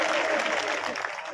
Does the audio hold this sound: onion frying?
no